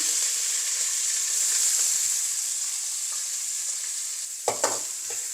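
Green chilies, half an onion and curry leaves sautéing in oil in a pan for tomato rice, a steady bright sizzle throughout with a couple of sharp spoon-and-pan clinks near the end.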